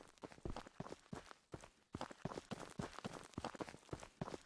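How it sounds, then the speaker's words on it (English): Rapid footsteps of a character in a video game, a quick steady patter of soft, clear steps with a brief pause partway through, close and fairly quiet with no talk. "is there a footstep sound?"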